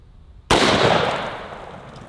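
A .44 Magnum shot fired with a Hornady FTX round into bubble wrap: one sharp, loud report after brief quiet, followed by a broad ringing decay that lingers to the end.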